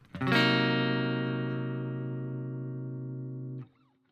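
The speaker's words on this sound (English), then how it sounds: "another really good 7th chord to know is the minor 7 flat 5" A single half-diminished (minor 7 flat 5) guitar chord is struck once and rings out, slowly fading before being muted abruptly, followed by faint handling noise.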